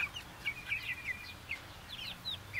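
Chickens chirping faintly in a run of short high calls against a low background rumble, with no talk.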